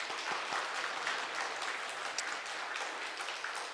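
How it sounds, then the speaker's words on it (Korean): A church congregation at a Sunday afternoon service applauds steadily, a dense, continuous clapping that stays even in loudness for a few seconds without pauses. "격려와 위로의 박수 한번 보내드립니다."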